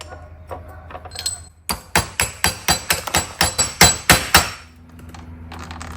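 Metal hammer blows drive a bearing onto the spindle of a John Deere D170 lawn tractor, about a dozen sharp, ringing strikes in a steady rhythm, loud and close, with no talk over them.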